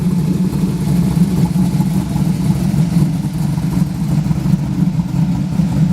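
A 1972 Ford Bronco with a built fuel-injected V-8 idles steadily nearby, a deep, even low rumble with slight fluctuations and no throttle blips, heard alone throughout.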